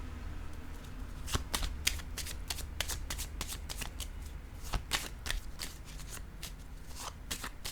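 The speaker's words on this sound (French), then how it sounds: "Je vais déposer une autre carte." Tarot cards are handled and laid down on a surface, producing a quick series of crisp, close snaps and flicks in an irregular rhythm, with no speech over them.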